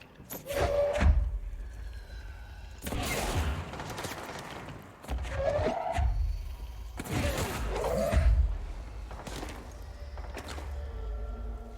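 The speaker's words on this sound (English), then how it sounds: "I think somebody lobbed a grenade at us" Heavy thuds and booming impacts in the video game Control, a few separate blasts spread over several seconds amid mechanical clanks, with a rumbling low end and a grenade-like explosion.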